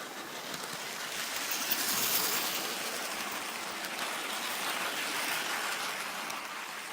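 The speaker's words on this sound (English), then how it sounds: "So you can hear that tender drive working away." A Hornby Flying Scotsman model train with tender drive runs steadily on brand-new set track, a continuous close whirring rumble with no talk over it.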